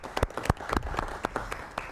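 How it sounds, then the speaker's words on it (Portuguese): Scattered applause from a seated audience at an arts and culture panel event. A handful of distinct, sharp claps ring out in an uneven rhythm, fairly faint and sparse, as if only a few people are clapping nearby. "Uma salva de palmas ao Senhor Canjoele"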